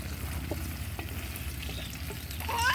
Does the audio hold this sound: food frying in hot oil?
yes